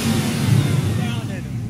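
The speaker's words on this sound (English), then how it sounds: "we got the exhaust on it, so you can hear the blower now" A GMC tow truck's supercharged engine, freshly fitted with a new exhaust, revs loudly and roughly up close, with a voice heard briefly over the engine noise.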